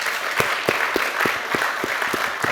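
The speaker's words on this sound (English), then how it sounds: "Please give our team a big round of applause." An audience applauds a panel of journalists, a full, even roar of many hands clapping throughout, with a few louder individual claps standing out.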